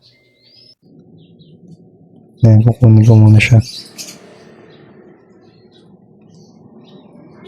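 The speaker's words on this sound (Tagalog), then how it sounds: "Inakay pala ng Maya yung maingay." A house sparrow chick chirps in a quick burst of a few high, loud calls, close by, followed by a quieter stretch with a person talking softly.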